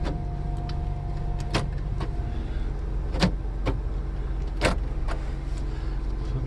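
Central locking on a Jeep Wrangler TJ 4.0 clunks several times in quick, sharp actuations inside the cabin over a steady low idle hum.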